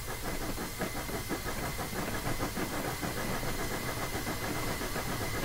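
A steam locomotive accelerates in Train Simulator 2016, giving a steady hissing rumble with rapid rhythmic chuffing that holds at an even, moderately loud level throughout, with no voices.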